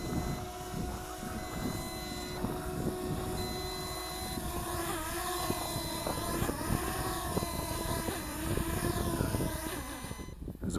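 An MJX Bugs 7 B7 brushless GPS drone comes down to land, its rotors giving a steady, close, high-pitched buzzing whine that shifts in pitch as it descends, with no voices.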